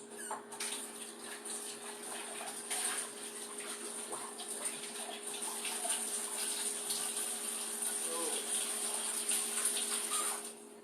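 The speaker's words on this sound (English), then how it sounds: "we're going to rinse out our bowl," Tap water running steadily into a kitchen sink while a bowl and cup are rinsed, a continuous close hiss with light splashing and clinks, no talk.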